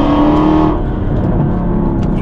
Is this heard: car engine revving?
yes